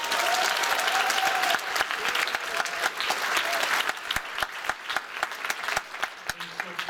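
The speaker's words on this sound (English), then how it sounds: "if you give them one big round of applause" Audience applause at a school writers' week reading, a dense, steady round of clapping from a room full of listeners that thins into scattered individual claps near the end.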